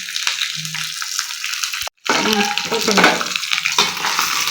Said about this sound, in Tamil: காய்கறி தண்ணி இதில் ஊற்றிக்குவோம்